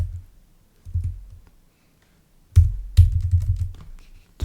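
A computer keyboard is typed on in short bursts of clicks separated by pauses, close and fairly loud, as a test card number is entered.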